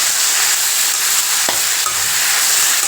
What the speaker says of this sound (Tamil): இப்போ இதை நல்லா வதக்கலாம் தக்காளி வந்து நல்லா வேகணுங்க